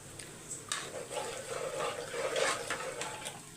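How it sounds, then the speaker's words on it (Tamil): A glass of water poured into a cooking pot of simmering curry, a soft, continuous watery splashing and gurgling lasting a few seconds, faint and close. "இப்போ ஒரு கிளாஸ் தண்ணி ஊற்றிக்கலாம்"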